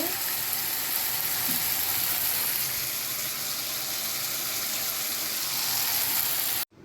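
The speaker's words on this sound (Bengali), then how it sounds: "এখন মাংসটুকু দিয়ে দিচ্ছি এখন মাংসটা কষায় নিব খাসির মাংস বসিয়ে দিচ্ছি" Goat meat with spices sizzles in a hot pan, a steady close-up hiss of frying that holds at an even level throughout and then cuts off abruptly at the end, with no talking.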